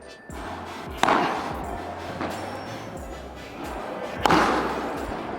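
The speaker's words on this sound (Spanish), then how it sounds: "vamos con los tiros por encima de la cabeza, arrancamos con la 18K" A Nox AT10 18K padel racket strikes the ball on overhead shots, two sharp cracking hits a few seconds apart, with lighter bounces and court noise between them.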